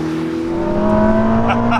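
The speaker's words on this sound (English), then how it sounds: "With the V8 behind me, now spinning up in that full song" Ferrari SF90 plug-in hybrid supercar with a V8 engine revving up, a loud, rising harmonic engine note that climbs steadily over a couple of seconds and sounds close by.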